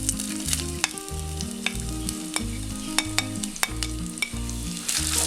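A large sliced onion fries in oil in a pan for a potato stew, with a steady dense sizzle and occasional sharp clicks from stirring, loud and close with no talking.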